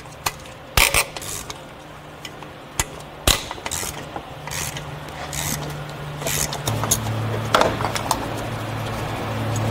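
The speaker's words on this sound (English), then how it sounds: "So we're gonna undo these 4 bolts and then our AC compressor is gonna come out." Ratchet wrench clicks in short bursts while loosening the mounting bolts on a Hyundai Sonata AC compressor, with scattered metallic clinks and handling noises over a low engine-bay hum.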